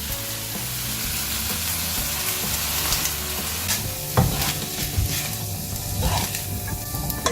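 Chicken fried rice with soy sauce stir-fried in a wok gives a loud, steady sizzle with scraping and stirring clatter running throughout, with no talking.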